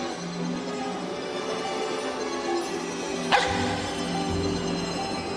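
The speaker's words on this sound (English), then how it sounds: "the watchdogs bark" Watchdogs barking, a run of close, repeated yips and bow-wows over a steady tonal background, with one sharper burst partway through.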